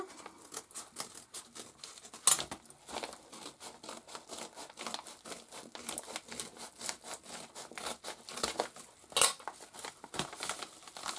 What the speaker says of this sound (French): Je vais donc ouvrir ce petit paquet.